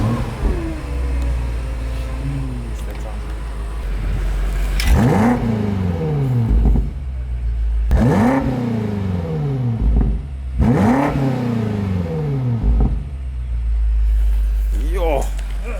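A 460 kW BMW X5M Competition engine fires up and revs in several sharp, rising bursts, heard close over steady idle, with people talking nearby.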